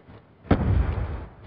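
A C4 charge detonating in the shooter Call of Duty: a sudden heavy boom with a rumbling tail that fades over about a second, following a quiet moment.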